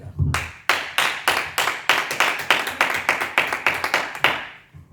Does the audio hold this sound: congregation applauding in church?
yes